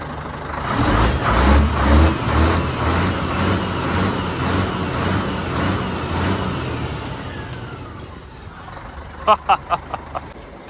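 A T-cab truck with a new twin stack exhaust revs hard, its loud, dense engine roar rising and falling close by before tapering off, followed by a few short sharp hisses near the end.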